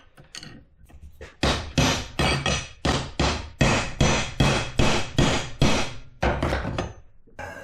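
Repeated hammer blows drive a stuck drive shaft cup out of a 2009 Polaris Ranger drive shaft, about fifteen loud, evenly spaced metallic strikes in a steady rhythm, with a short pause near the end and no talking.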